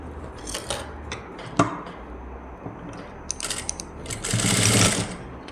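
A sewing machine stitches the hem of a baby's skirt, its motor running in short bursts and then a sustained louder run near the end, close and clear with no talking.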